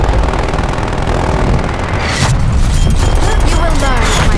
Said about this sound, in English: Requesting artillery inbound.